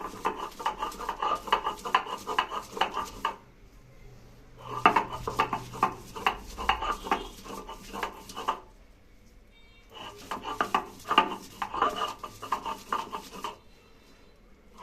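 Sidol shutki, a dried fish, being mashed and ground for bhorta, heard as three stretches of steady scraping and pounding against a bowl, separated by short pauses.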